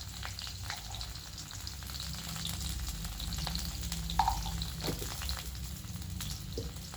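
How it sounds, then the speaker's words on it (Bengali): Drumstick stalks frying with turmeric and chilli powder in a wok, a steady close crackling sizzle with occasional stirring clicks throughout. "দিয়ে ডাঁটাটাকে ভালো করে ভেজে নেব।"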